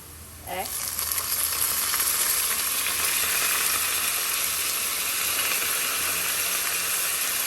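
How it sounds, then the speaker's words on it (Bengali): Onion drops into hot oil and starts frying golden, bursting into a steady, loud sizzle after a brief quieter moment. The hissing crackle then continues evenly to the end. "পেঁয়াজটাকে এখন খুব ভালো করে গোল্ডেন করে ভেজে নেব প্রথমে"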